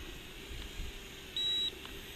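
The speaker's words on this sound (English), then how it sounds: "you push this top left button until it beeps" A JJRC H56 drone controller gives a single short electronic beep as its top left button is held to enter TaiChi mode, faint over a quiet background hum with no talk.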